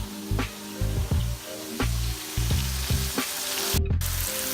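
Ground beef for chili sizzles and fries in a hot pan, a constant loud crackle broken by rhythmic scraping stirs roughly every half second, with no voices.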